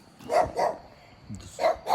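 A dog barks four times, two quick barks, a pause, then two more, fairly close and loud.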